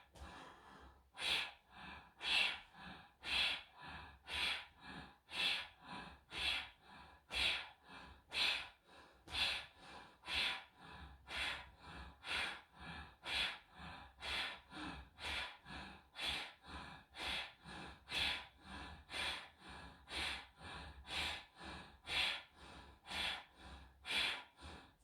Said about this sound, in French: continuez bien avec votre Bhastrika, l'inspire, aussi volontaire que l'expire